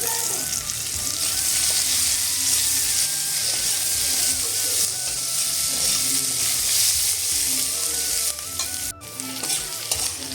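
Potatoes and chopped onion seasoned with salt and turmeric frying in a pan give a loud, continuous close-up sizzle with stirring scrapes, dipping briefly near the end.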